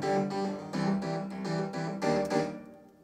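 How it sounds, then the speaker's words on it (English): Layered Keyscape electric piano with a clavinet-like bite plays a run of punchy, rhythmic chord stabs, bright and close, fading out at the end without any voices. "It's electric piano, but it sounds more like a clavinet because I use clavinet."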